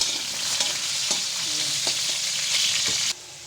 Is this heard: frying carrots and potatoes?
yes